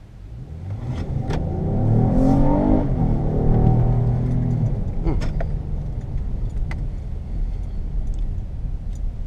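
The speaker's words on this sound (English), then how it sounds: "Not a bad pull for the first acceleration test" A 2017 Acura MDX with a 290-horsepower 3.5-liter V6 pulls hard under acceleration, the engine rising in pitch and volume through a gear before easing off into steady road and wind noise, nobody speaking.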